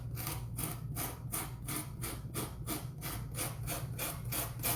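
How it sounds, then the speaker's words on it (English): Rapid, regular back-and-forth rasping strokes of a sanding block roughing up the edge of a paper door tag, about two per second, close and steady with no talking. "I'm going to take a sanding block and just rough the edges up"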